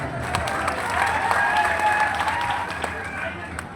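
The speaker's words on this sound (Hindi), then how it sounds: "अगर इजाजत है तो जोरदार तालियां बजाएं।" An audience at an all-India mushaira breaks into loud, sustained applause, a dense rush of clapping that swells briefly and then begins to taper, with some voices mixed in.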